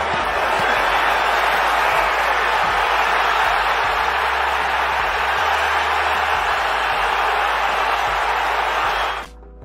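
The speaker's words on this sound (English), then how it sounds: "Listen to this crowd" A large boxing crowd roars and cheers in one continuous, dense wash of noise, loud and sustained, with no distinct voices standing out, before cutting off abruptly at the end.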